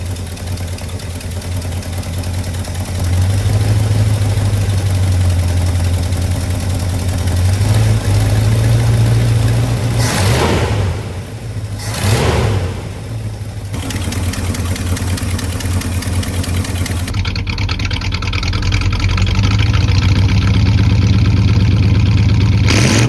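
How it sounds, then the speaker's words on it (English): A 1985 Chevrolet C20 pickup truck engine, back running after sitting over ten years, idles loudly and close with a steady low rumble and a brief dip in the middle before settling back into an even idle. "I'm just gonna let it idle for a minute"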